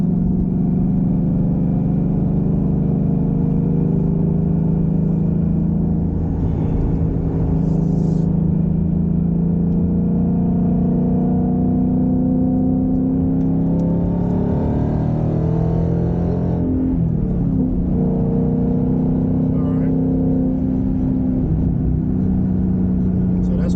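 A 2021 Mustang GT Performance Package tuned to 750 horsepower accelerates hard through its gears, with a loud, steady engine roar that climbs in pitch and briefly dips at each shift, heard close from inside the car.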